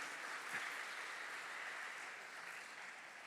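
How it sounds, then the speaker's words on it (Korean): Audience applause at a school admissions information session, steady even clapping from a seated crowd, moderately loud and continuous throughout. "열정적으로 학교의 교육 철학을 소개해 주신 우리 남진석 이사장님께 한 번 더 큰 박수 부탁드리겠습니다"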